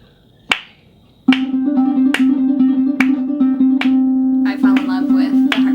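Sharp hand claps struck one by one in a steady beat for a measure of 3/4 time, ringing over a sustained low pitched tone, close and fairly loud, with a burst of busier sound at the end.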